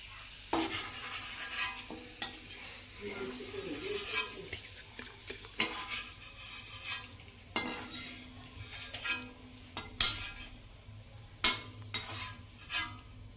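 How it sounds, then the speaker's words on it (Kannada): Curry leaves, cashews and raisins frying in a pan, with soft sizzling under sharp clinks and scrapes of a spoon stirring against metal, in intermittent bursts. "ಸ್ವಲ್ಪ ಗೋಡಂಬಿ ದ್ರಾಕ್ಷಿನೂ ಇದರಲ್ಲಿ ಫ್ರೈ ಮಾಡ್ಕೊಳ್ರಿ."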